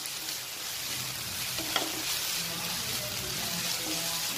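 Chopped onion and green chili frying in a pan: a quiet, steady sizzle with one brief clink partway through, no voices.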